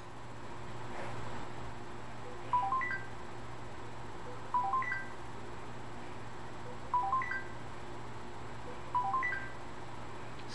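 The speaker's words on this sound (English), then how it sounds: "Excuse me while I tend to the cell phone." A cell phone rings nearby in four evenly spaced bursts of short electronic chirps over a quiet background hiss.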